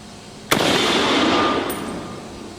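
A replica World War II M1 Garand rifle fires a single loud, sharp report at close range, followed by a long fading echo and a brief faint click near the end.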